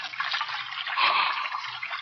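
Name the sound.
running water sound effect in radio drama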